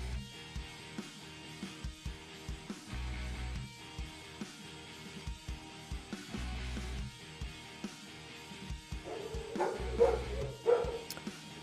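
Dogs barking repeatedly indoors, a steady run of short, fairly close woofs and yips scattered through the whole stretch, with some whimpering and busier noise toward the end, no talking.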